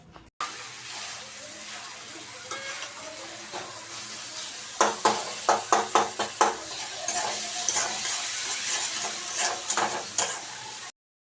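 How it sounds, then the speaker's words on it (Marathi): Onion and tomato sizzle in a pan with ginger-garlic paste, a steady frying hiss running throughout, punctuated by a series of sharp spatula scrapes and stirring clatters in the middle; no talk. "कांदा आणि टोमॅटो व्यवस्थित असा फ्राय झालेला आहे"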